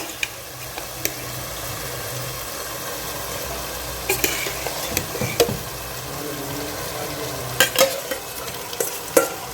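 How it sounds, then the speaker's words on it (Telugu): Chicken frying in a pan with yogurt and chukka kura leaves as it is stirred. A steady low sizzle runs throughout, and several sharp scraping and clinking stirs land near the middle and end, with no voices. "ఈ పెరుగులో నుంచి ఆయిల్ పైకి వచ్చే వరకు మళ్ళీ ఫ్రై చేద్దామండి."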